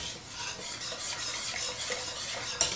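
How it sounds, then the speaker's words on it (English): A whisk stirs thick, gluten-free turkey gravy in a pan, giving a steady, close scraping swish with a faint sizzle beneath and a brief metallic clink near the end. "I'm going to whisk this together."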